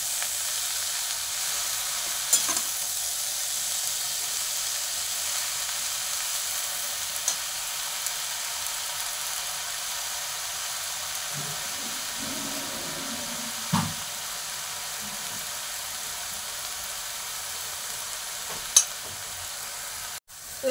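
Kalai greens stir-frying in a pan, a constant soft hiss and sizzle heard up close with no talking, broken by a few brief clinks and scrapes of stirring near the end.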